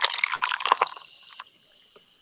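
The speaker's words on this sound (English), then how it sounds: "And pouring it over ice." Soda poured over ice in a glass, a close fizzy splashing rush that starts loud with crackling ice and then fades into a soft hissing of bubbles.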